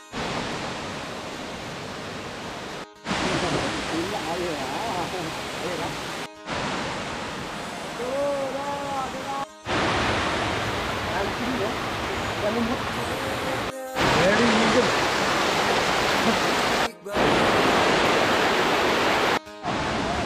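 Steady broadband rush of falling water at Tumpak Sewu waterfall, loud and continuous, with brief cuts between segments and faint voices murmuring underneath.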